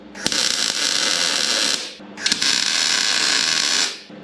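Two long bursts of tack welding on a metal engine mount plate for a Barra engine swap in an FJ45, each a loud, steady crackling hiss lasting under two seconds, separated by a short pause, each opening with a sharp click.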